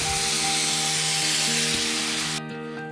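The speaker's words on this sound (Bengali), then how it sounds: "এবারে জল দিয়ে দিচ্ছি।" Water poured into a pan of fried brinjal and oil for a thin parshe fish curry sets off a loud, steady sizzling hiss over a low hum. The hiss cuts off abruptly near the end.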